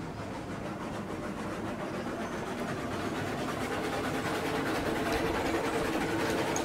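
A large train pushed uphill in the RailRoads Online video game gives off a steady, dense rumble and rolling clatter of rail cars, continuous and unchanging with no talking.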